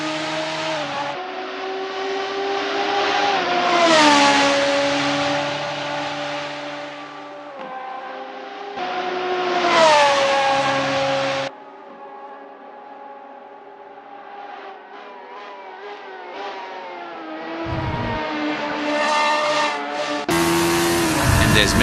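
Race car on an out lap at Spa-Francorchamps in a Radical endurance sim race, a loud engine howl that climbs in pitch through repeated gear changes, then drops away to quieter running before surging again.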